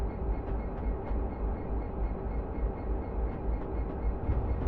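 A Class 66 diesel locomotive in Train Simulator 2015 rumbles steadily along the line, with a low continuous drone and faint periodic clicks as it runs over a rail joint.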